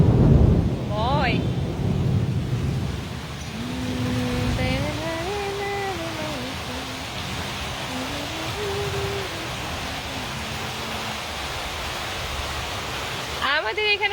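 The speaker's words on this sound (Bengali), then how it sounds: "আমাদের এখানে ঝুম বৃষ্টি হচ্ছে, ঝুম বৃষ্টি যাকে বলে, ছোটখাটো বৃষ্টি না, ঝুম বৃষ্টি।" Steady hiss of a heavy downpour fills the whole stretch, with a wavering, voice-like tonal sound rising and falling over the rain in the middle; no distinct thunder claps stand out.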